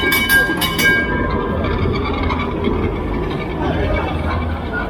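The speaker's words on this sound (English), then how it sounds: "Here comes the train." A train pulls into a station on a long travel day from Greece to Istanbul, a steady loud rumble of rolling wagons with high squealing tones in the first second and a half, then a continuous low roar.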